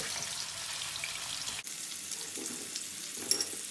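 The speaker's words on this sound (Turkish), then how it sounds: "Sadece yüksek ateşte iki tarafında ne yapacağız? Yakacağız." Köfte meatballs sear in a hot pan over high heat, giving a steady, close sizzling hiss that runs throughout with a brief dip midway and no talking.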